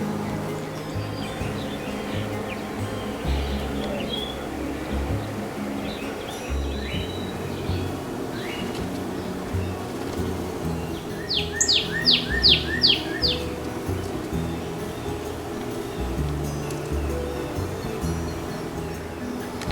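Small birds chirp at a homemade feeder made from a reused bottle, with a short quick burst of tweets standing out midway over a steady low background rumble.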